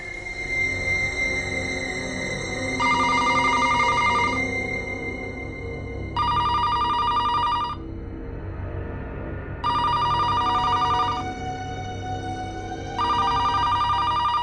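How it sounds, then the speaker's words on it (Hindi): A telephone rings in repeated bursts, four rings separated by short pauses, clear and fairly close. "ये रात को 3 बजे किसका फोन आ सकता है?"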